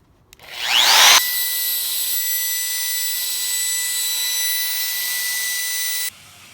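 Trim router with a 1/8 inch round-over bit running along wooden edges: a loud, steady high-pitched whine that starts up sharply, holds level for about five seconds, then cuts off.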